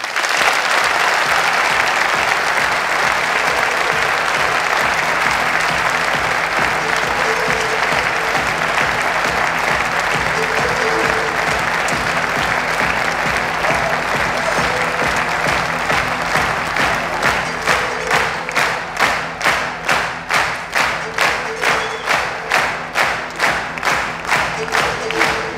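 Thunderous applause from a large carnival crowd at the opening of carnaval in Ninove, loud and sustained for the whole stretch, with cheering mixed in and the clapping falling into a rhythmic, unison beat toward the end.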